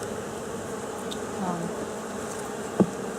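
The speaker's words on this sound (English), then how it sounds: "most of the bees are still out, and they're collecting pollen" Honeybees from a healthy hive, many still out collecting pollen, give a steady, soft buzz that hums on throughout, with a brief louder pass near the end and faint talk in the background.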